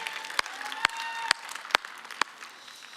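A crowd at a church gathering applauding and cheering, steady clapping throughout with several sharp, loud claps standing out near the listener.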